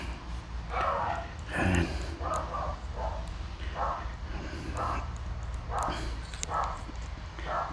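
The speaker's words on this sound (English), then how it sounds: "Getting dog barks at everything" A dog barks repeatedly at a distance outdoors in a Scottish garden, a series of irregular yaps spread over several seconds, fairly faint behind a low background hum.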